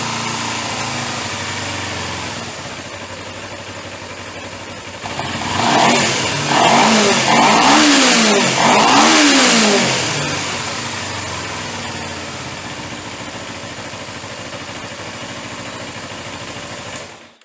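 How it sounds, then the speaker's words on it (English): A Kawasaki Ninja 250R motorcycle engine idles, then revs up in several rising and falling throttle blips, loud and close, before settling back to a steady idle. "He revs all the way up."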